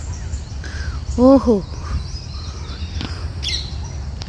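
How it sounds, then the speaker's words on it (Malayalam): A crow gives one loud, harsh caw nearby, followed by fainter chirps from other birds, in a quiet outdoor setting with a low hum. A person makes a brief exclamation. "ഒരു കിളി ഫ്രണ്ട് വിളിക്കുന്നുണ്ടല്ലോ"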